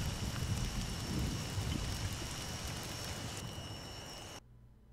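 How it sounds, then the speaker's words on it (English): Heavy downpour in the video game Survivor Castaway Island, a dense, steady hiss of rain with a low rumble beneath it that cuts off abruptly near the end. "The fire warms the whole camp as it's raining, like downpouring right now."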